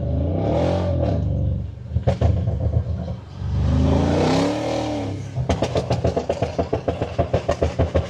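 A Mercedes-AMG GLC63S or E63 engine revs hard close by, swelling in two long rising and falling blips, then a rapid string of sharp crackling exhaust pops and burbles.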